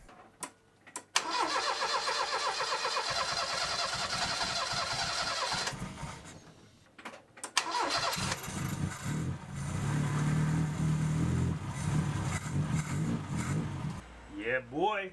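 A race car engine, newly fitted with a fresh carburetor and fed race gas from a jerry can, cranks and fires up, then settles into a loud, rough idle with voices talking over it.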